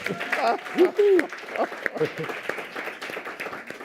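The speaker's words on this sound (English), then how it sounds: "Now you can clap." Audience applause at a policy conference session on community foundations: scattered clapping from a crowd, with voices and cheers mixed in over it.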